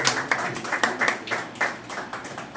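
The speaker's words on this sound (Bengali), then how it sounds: "সবাই একটা জোরে হাততালি দেবেন।" An audience at a foundation's second anniversary ceremony claps together in a steady, moderately loud burst of applause, with bright rhythmic hand claps heard fairly close.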